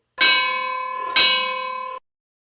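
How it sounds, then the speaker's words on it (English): An opening bell sound effect for a wrestling reaction show: two loud, ringing bell strikes about a second apart, each with a sustained metallic tone and no talk over them. "Opening bell."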